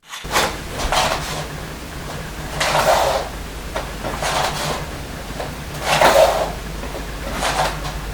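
Faint whirring and clicking bursts from the autofocus motor of a 90mm lens on a Fujifilm camera, recurring every couple of seconds over a quiet hiss.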